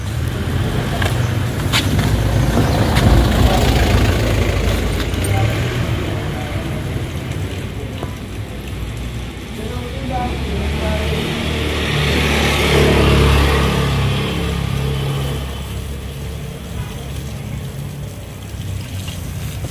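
A small motorcycle engine runs steadily for about twenty seconds, a close, loud low rumble that rises in two revving surges. Wind and road noise blend in.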